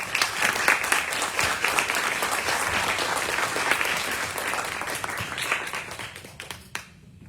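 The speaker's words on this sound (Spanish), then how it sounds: "por favor, un aplauso a nuestros invitados" An audience applauds the guest speakers at a university language-festival literature and history panel, a dense, steady wash of many hands clapping close by that carries on for several seconds before thinning out and stopping abruptly at the end.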